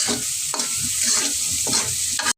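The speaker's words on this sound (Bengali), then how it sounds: "পেঁয়াজটা আগে একটু বাজিয়ে নিই বাদামি ঢালা করে" Close, continuous sizzle of onions frying in a pan, with several rhythmic scraping stirs breaking through the crackle.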